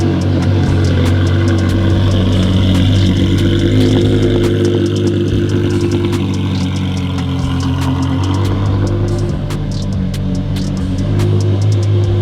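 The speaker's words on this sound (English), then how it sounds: "This exhaust is so much louder." A loud Porsche Carrera GT engine idles and revs steadily, its deep exhaust rumbling throughout with no voices.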